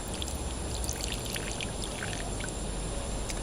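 Gasoline trickles and splashes steadily into an engine cylinder during an outdoor backyard repair, a faint continuous pour heard with no talking.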